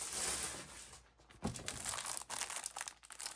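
Paper being torn out of a handmade flip flop journal: close crinkling and crumpling, a sharper rip about midway, then continued rustling and crackling, with no talk.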